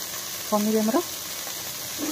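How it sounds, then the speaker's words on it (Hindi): Paneer pieces fry in ghee in a pan with a soft, steady sizzle close by. A short voice-like tone breaks in partway through, and another faint one follows near the end. "घी पकईकी आमे काटिकी रखिथिबा पनीर की भाजीदबा।"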